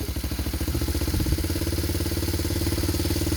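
A homemade helicopter's small engine runs with a loud, rapid, pulsing rhythm, a brief rising rev partway through, then settles back into a steady throbbing idle.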